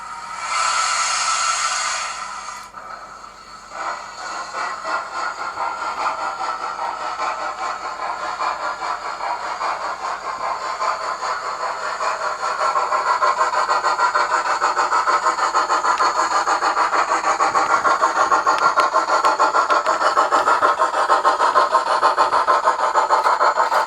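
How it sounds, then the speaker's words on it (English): Steam generator on a model BR A3 Flying Scotsman locomotive hissing steadily and loudly up close, a continuous broadband rush with a mechanical whir beneath that grows stronger toward the end. "See the steam coming out now."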